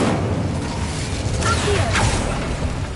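Hogwarts Legacy's Incendio fire spell cast in a short whooshing burst, a rising fiery swish and crackle around the middle over a steady game background, fairly close and alone.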